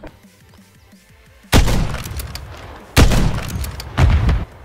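An explosive barrel shot and blowing up in Modern Warfare 3 multiplayer, with three loud, booming blasts with sharp onsets spaced about a second and a half apart after a quiet stretch.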